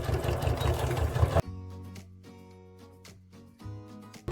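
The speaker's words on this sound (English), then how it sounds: "you're just starting with your normal stitching, back stitching" Sewing machine stitching a quilt at a quarter-inch seam, a loud steady whirring run that stops abruptly, then softer intermittent clicks and short motor hums, close to the listener.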